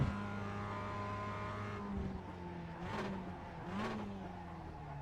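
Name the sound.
race car accelerating at Laguna Seca, iRacing video game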